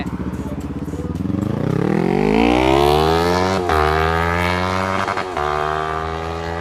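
A Yamaha R3 motorcycle engine revs hard and climbs in pitch, with quick, crisp quickshifter gear changes cutting in between pulls; loud and close.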